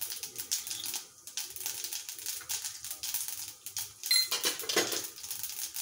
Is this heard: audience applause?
no